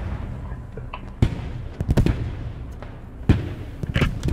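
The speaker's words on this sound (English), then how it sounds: "we're watching this tank battle" Tank battle explosions in the video game Hell Let Loose boom and thud irregularly at a distance, two heavier blasts standing out among scattered smaller pops and rumbles.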